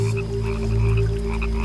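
An Australian rocket frog croaks in a loud, steady, droning call with a buzzing pulsed texture, close and continuous, with no voices.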